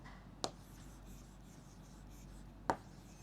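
Two short, faint pen strokes scratch across paper in a quiet room, spaced about two seconds apart against low background hiss.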